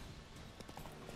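Brief, steady clip-clop of horse hooves in The Witcher 3, rhythmic trotting beats under a busy wash of game background sound.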